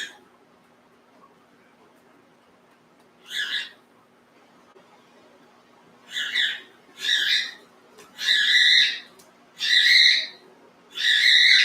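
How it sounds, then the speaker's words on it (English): Pet bird calling indoors with short bright squawking calls, first a single call, then a series of longer repeated calls growing closer together, loud and near against a quiet room. "My bird is talking to you."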